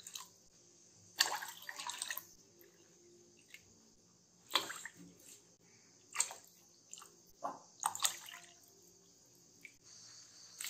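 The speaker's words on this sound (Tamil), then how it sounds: "இப்போ பார்த்தீங்கன்னா நம்ம 8 கப் தண்ணி ஊற்றிடலாம்." Water is poured into a pot for milk Pongal in several separate splashing bursts, each pour short and close, with quiet pauses between them.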